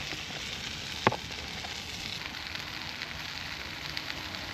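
Potatoes and onions sizzle steadily in a pan over an outdoor campfire, a constant close frying hiss with one sharp clatter near the start and no talk.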